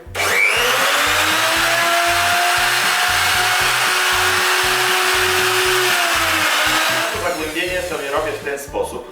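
A cheap router or power tool makes a machining pass on aluminium, a loud steady high-pitched whine with a rhythmic pulsing underneath that lasts about eight seconds before it winds down.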